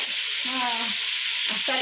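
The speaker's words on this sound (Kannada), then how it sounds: "ಚಿಕನ್ನ ಒಗ್ಗರಣೆಗೆಲ್ಲ ಹಾಕ್ಕೊಂಡಿದ್ದೀನಿ" Chicken pieces sizzling in hot spiced tempering oil for a village-style chicken dish, a loud, steady crackle close by with a brief stir partway through and no talking.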